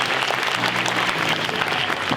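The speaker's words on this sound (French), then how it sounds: "vous pouvez à nouveau l'applaudir bien fort" Audience at a mentalism show in the Zénith arena, Strasbourg, applauding a volunteer, a dense even wash of clapping from a large crowd, steady and somewhat distant.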